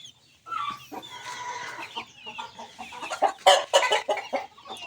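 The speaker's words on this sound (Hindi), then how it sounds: "चूजे" Chickens and chicks clucking and cheeping close by, scattered calls building into louder, busier bursts toward the end.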